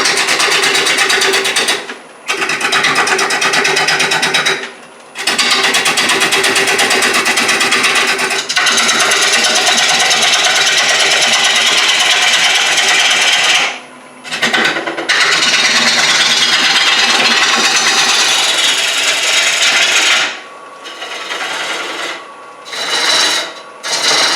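A wood lathe turns a bowl blank at about 500 RPM while a gouge shapes the outside, giving a loud, rough rasping cut in long bursts broken by brief pauses as the tool lifts away.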